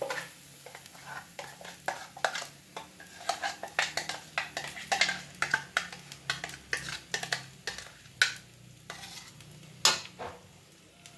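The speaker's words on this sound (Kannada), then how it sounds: "ಹಾಗೆ ಒಗ್ಗರಣೆಗೆ ನೋಡಿ ಚಟ್ನಿ ಹಾಕ್ತಿದ್ದಾರೆ ಒಗ್ಗರಣೆಗೆ" Tempering for peanut chutney is stirred and tossed in a pan, giving a quick run of sharp clicks, scrapes and crackles over a faint steady sizzle, fairly close, with no talk.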